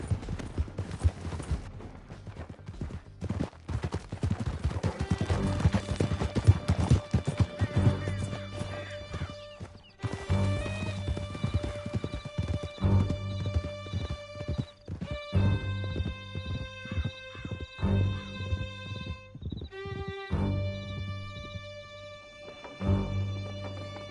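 Horses galloping in Red Dead Redemption 2, steady clip-clop hoofbeats with neighs and whinnies layered over game music and scattered crashes, loud and continuous with no talk.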